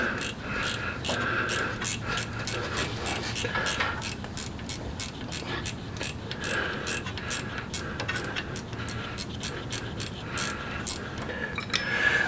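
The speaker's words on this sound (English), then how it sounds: "we're going to take the 5/16 wrench and go ahead and pop this bolt right out of the back of the ABS sensor here" Quick, even ratcheting clicks from a 5/16 wrench backing out the ABS sensor bolt on a Jeep Wrangler JK Rubicon Dana 44 rear axle, a continuous close mechanical clatter with no pauses.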